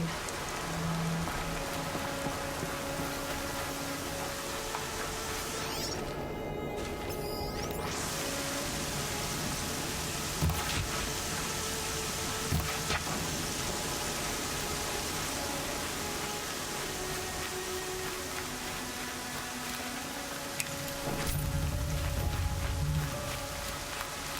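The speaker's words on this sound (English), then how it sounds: "Here comes the rain." Steady rain in the video game Horizon Zero Dawn, a constant dense hiss of drops on surfaces lasting throughout, with a few brief louder clicks and a low rumble near the end.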